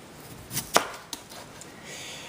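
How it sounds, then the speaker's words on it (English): A knife makes a few quick, crisp cuts through food on a board in a home kitchen, close by and fairly quiet, with brief pauses between strokes. "Now I'm going to go ahead and slice this up."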